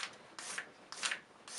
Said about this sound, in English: A 600 grit, as it's called, wet and dry, is much coarser than a 1200.